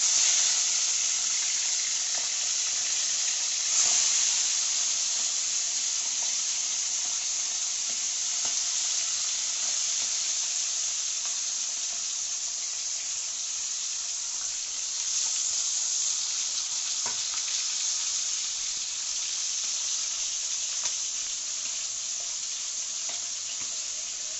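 Fish frying lightly in a pan as part of a home lunch, a steady broad sizzling hiss held for a long stretch with faint occasional clicks and no speech.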